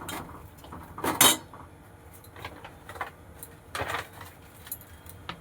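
Clinks and scrapes of utensils against a pan as lachha vermicelli and ghee are added to milk on the stove, with two louder metallic clatters among quieter kitchen handling, no talk.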